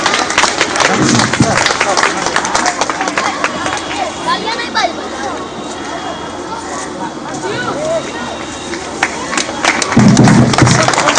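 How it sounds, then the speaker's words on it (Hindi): Loud, dense applause from an audience at a school prize ceremony as a student comes on stage, a continuous crackle of many hands clapping that swells near the end. "जोरदार तालियां।"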